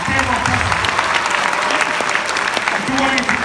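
A school assembly crowd at a percussion show claps and applauds loudly and continuously, with a voice speaking over the dense clapping.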